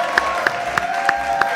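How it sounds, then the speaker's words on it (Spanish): An audience applauding the team of a Spanish-language talent show, heard as five evenly spaced, sharp claps over a steady tonal hum. "Yo le quiero dar un aplauso a todo el equipo,"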